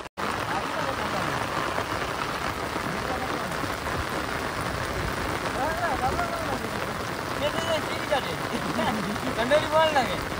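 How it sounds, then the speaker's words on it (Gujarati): A heavy monsoon downpour drums steadily and loudly on the surface by a coastal creek, a dense unbroken roar of rain with faint voices buried beneath it. "અત્યારે ધોધમાર વરસાદ ચાલુ છે"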